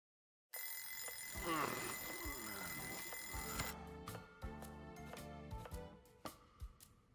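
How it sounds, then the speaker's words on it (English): An alarm clock rings in the video game Kaito Files, a loud continuous electronic bell lasting a few seconds before cutting off into scattered clicks and faint background tones. "I even moved the alarm and everything. Turning it off in your sleep is a talent."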